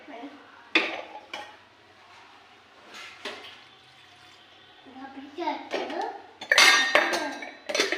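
Rice flour being mixed with water in a bowl for akki roti: metal clinks and scrapes of utensils and soft wet stirring, busiest toward the end, with a voice talking at times.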